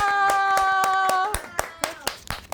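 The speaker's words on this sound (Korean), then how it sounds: "큰 손뼉으로 받아주십시오" A voice sustains a cheering note as a small audience at a community climate-justice gathering starts clapping, followed by a few sharp, scattered hand claps.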